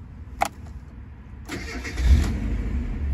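A 1990 Mazda Eunos Roadster starts with a brief cranking whir that catches at once and settles into a steady, close idle rumble, preceded by a small click.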